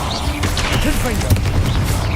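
A Confringo blasting spell fires and explodes in Hogwarts Legacy, a short burst with a booming impact in the middle, set against busy game sound and music.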